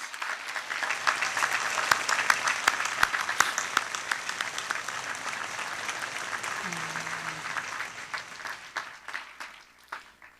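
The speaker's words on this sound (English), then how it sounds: "Stand up and let's give them a round of applause." Sustained applause from a large audience at a university commencement ceremony, dense and steady for several seconds, then thinning out toward the end.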